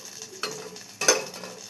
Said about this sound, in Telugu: ఇప్పుడైతే మనం పట్టుకున్న గోంగూర పచ్చడికి అయితే పోపు పెట్టేసుకున్నాము.